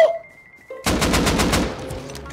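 A rapid burst of automatic gunfire in a video game erupts after a brief electronic tone, sharp repeated shots blending into a dense roar that gradually fades.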